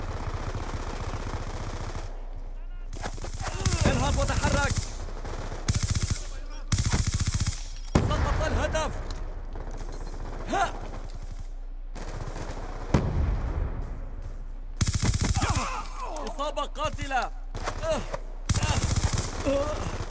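Machine gun emptying a whole magazine in Black Ops II multiplayer, repeated loud bursts of rapid automatic fire broken by short gaps, with a voice talking in between.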